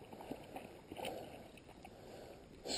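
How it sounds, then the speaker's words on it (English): A dog paddles through Wolf Creek outdoors, with soft, irregular splashes and gurgling water at a low, fairly distant level, picking up slightly near the end. "Swimming in Wolf Creek."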